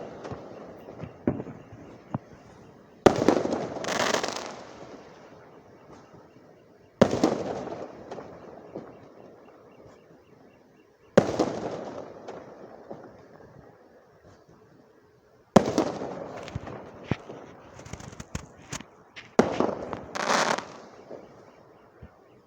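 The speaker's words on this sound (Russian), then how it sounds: "Давайте посмотрим салют." Distant fireworks burst in Yakutsk in repeated rounds every few seconds, each boom followed by a long crackling tail, with scattered pops between.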